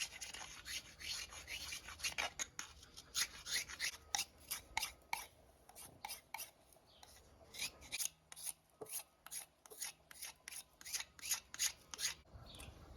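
An Auxiliary Manufacturing pocket bowie knife has its surface smoothed by hand, producing quiet, rhythmic rasping strokes that come in quick bursts and short runs, close and alone.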